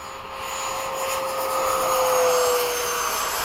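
Ducted-fan RC model jets, a 90mm F-15, 90mm F-4, 80mm F-5 and 90mm Hawk, flying in formation at Bayside: a sustained high whine and rushing roar that swells steadily as they pass, with no voices.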